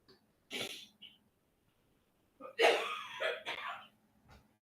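A man clears his throat and coughs during a casual morning live broadcast. There is one short burst, then a louder, harsher cluster a couple of seconds later, close to the microphone and with no talk over it.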